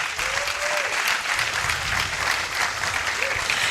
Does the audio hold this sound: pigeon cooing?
no